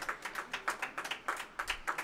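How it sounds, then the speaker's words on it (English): Spectators at a racquetball final on a glass court clap as they stand, a moderate, fairly even run of sharp claps from a small crowd. "Congratulations to all the players, all the spectators standing and clapping"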